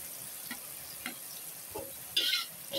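Carrots and catfish being stir-fried in a wok, with a few soft scraping stir strokes and a light sizzle, plus one brighter clatter near the end; no talking.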